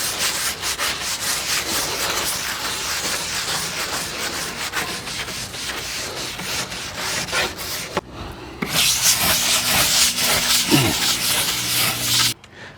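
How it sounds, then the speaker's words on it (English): Old outdoor timber decking scrubbed by hand with a cleaning product: steady, close, coarse brushing strokes in a continuous rhythm, a brief pause, then a louder stretch of scrubbing that cuts off at the end. "So just be careful when you are scrubbing that you scrub it in a localized area."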